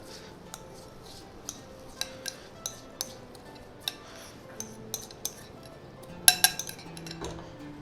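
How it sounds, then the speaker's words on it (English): Boondi tipped into sugar syrup in a pan and stirred for motichoor ladoo: a series of sharp, separate spoon-on-metal clinks at an uneven pace, with a brief cluster of louder scrapes and knocks near the end over a quiet background. "I am going to add all my bundis in."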